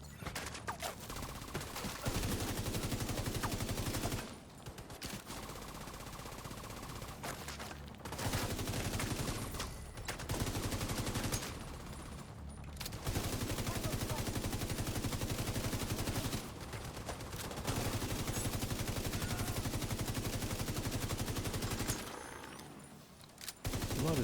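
Sustained automatic gunfire roars through a heroic mission in The Division 2, long dense bursts of rapid shots broken by short pauses, loud and close with no talk.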